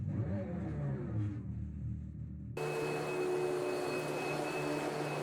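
Two muscle car revs heard back to back: a Hellcat engine rising and falling with a deep rumble, then abruptly an electric car's synthetic soundbox with a brighter, whining, vacuum-like tone, both loud and close with no talking.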